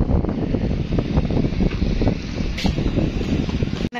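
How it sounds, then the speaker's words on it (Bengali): Strong wind just before rain, beside a railway line, roars steadily into the microphone with heavy low rumbling buffeting, continuous throughout, with a brief dropout near the end. "বাতাসের শব্দ হইনা আপনারা বুঝতেই পারতেছেন কত সুন্দর আবহাওয়া, কত সুন্দর বাতাস"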